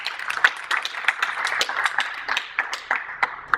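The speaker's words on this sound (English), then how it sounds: "so give yourself a round of applause." Teams at a cooking competition applaud one another, a small group's scattered, uneven claps heard fairly close and modest in volume, with no talking over them.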